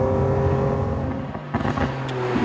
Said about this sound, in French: on renvoie la pédale bien au fond. Et bim, on prend 8500 tours minutes.